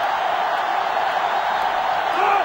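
A sellout stadium crowd at a football game roars in a steady, dense wash of noise that rises slightly toward the end, with a commentator's voice faintly under it.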